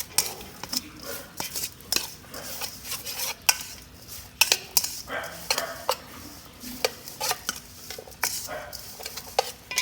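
A spoon scrapes and clinks steadily against a bowl while catfish larb is stirred, a dense run of close, sharp metallic taps and rubbing strokes with no talking.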